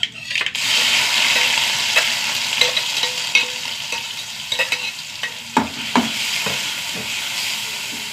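Small onions, garlic and crushed chili frying in a pan, a steady loud sizzle broken by scraping and clinks of stirring, close and without talk.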